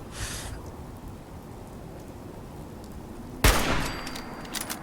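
A weapon fires in Fallout 4: a faint, hissing burst near the start gives way to quiet ambience, then one loud, sharp shot cracks out near the end with a ringing tail and a few smaller pops.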